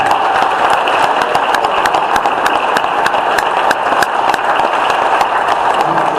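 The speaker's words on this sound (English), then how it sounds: "give him a round of applause for that" Applause from an audience at a general meeting, a steady dense wash of clapping that runs evenly through the whole stretch, close and fairly loud, with no voices standing out above it.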